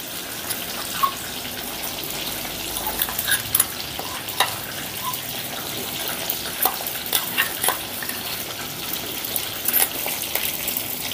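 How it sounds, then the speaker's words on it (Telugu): Ground onion paste fries in a hot pan, a continuous sizzling hiss broken by repeated clicks and scrapes of a stirring spoon, close up with no speech. "ఈ ఉల్లిపాయ పేస్ట్ని ఒక 2 నిమిషాలు ఫ్రై చేసుకుందాం"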